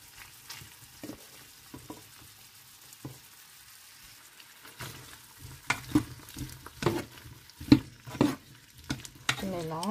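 Chicken in mango sauce is stir-fried with vegetables and onions in a pan, with quiet sizzling that grows louder as a spatula scrapes and clatters in irregular bursts, a voice faintly present.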